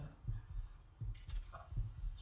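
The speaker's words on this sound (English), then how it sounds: "Do you hear that? What? The thumping noise. Your heartbeat?" A heartbeat thumps in a low, muffled rhythm, with three doubled beats about three-quarters of a second apart over a faint hum.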